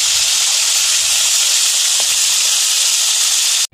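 Asohos fish frying in hot oil makes a loud, continuous, close-up hiss and sizzle that stops abruptly just before the end.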